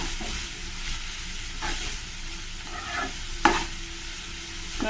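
Fenugreek leaves fry in hot oil with a steady, close crackling sizzle, interrupted by the soft scrape of stirring and one sharp clink of a spatula against the pan.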